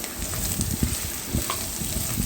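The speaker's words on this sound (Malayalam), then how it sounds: "പട്ട ഗ്രാമ്പു ഏലക്ക ഇതെല്ലാം ഇട്ടൊന്ന് മൂപ്പിക്കുക" Cinnamon, cloves and cardamom frying in hot ghee for ghee rice, a close, steady sizzle with small crackling pops.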